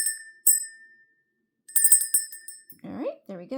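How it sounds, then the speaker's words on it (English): A small bell rung to clear energy gives two bright, ringing strikes that decay slowly, followed by a quick cluster of jingling tones, then a person begins speaking. "we're going to ring the bell to clear the energy"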